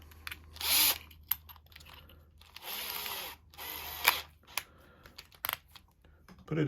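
Short bursts of a power drill whirring while fixing a bike basket, several separate spins with pauses between, close and fairly loud, plus a few clicks and knocks.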